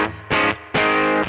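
Electric guitar played through a clean tube amplifier, two bright sustained strummed chords ringing out with a short pause between, loud and close, no voices.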